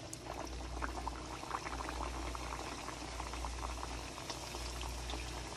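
Potato samosas fry in hot oil, a soft continuous bubbling fizz with scattered small pops, fairly quiet and steady throughout.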